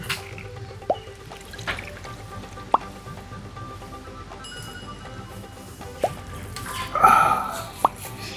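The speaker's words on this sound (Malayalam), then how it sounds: "സ്വല്പം വെളിച്ചെണ്ണ ഒഴിക്കുക കേട്ടോ." Coconut oil being poured while making an ayurvedic oil, heard as a few soft plops and drips over quiet background, with a brief louder trickle near the end.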